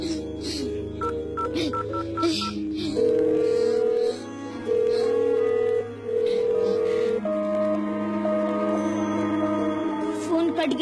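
A telephone plays short keypad dialing tones and beeps over a dramatic TV soundtrack, and several steady tones sound in sequence while a voice speaks briefly.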